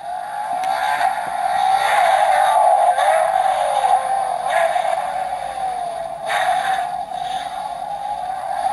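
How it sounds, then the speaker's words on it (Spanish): A Bburago Junior toy Ferrari 488 GTB plays an electronic engine sound effect, a loud, steady revving whine with small swells and drops in pitch, heard alone for several seconds. "el sonido de motor de este auto"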